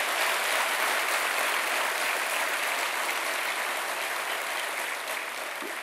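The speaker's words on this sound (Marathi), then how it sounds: "आपण आपल्यासाठी टाळ्या वाजवा एकदा सगळ्यांसाठी" Applause from the gathered officers and staff at a Mumbai Police retirement ceremony, a dense, steady crowd clapping that fills the room at full strength and fades slightly toward the end, with no voices over it.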